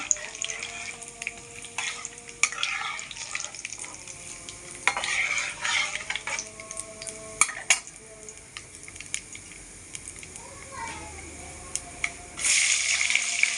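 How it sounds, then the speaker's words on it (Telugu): Lentils frying in a pan for upma, a steady sizzle with repeated scrapes and clinks of a spoon stirring them against the pan, close and moderately loud. "పప్పులన్నీ చక్కగా వేగనివ్వాలి"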